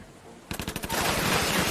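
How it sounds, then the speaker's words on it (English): Gunfire in an animated boy-detective robot show: a quiet lull, then a rapid burst of loud shots that swells into a dense sustained volley of automatic fire, with no talk over it. "Gunfire!"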